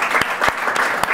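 Audience clapping at a film press conference, a brief steady burst of many hands with a few sharper individual claps, moderately loud and uninterrupted by speech.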